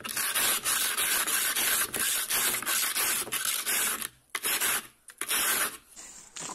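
A homemade rasp tool scrapes along a building block wall to smooth it, a close, loud, continuous gritty rasping in repeated strokes, broken by two short pauses near the end, with no talking.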